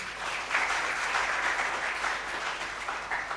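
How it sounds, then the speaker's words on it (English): An audience at a guest lecture on coastal and pluvial flood risk gives steady, moderately loud applause, a continuous patter of many hands with small swells, and no voices over it. "please give a big applause to Mr. Indradi."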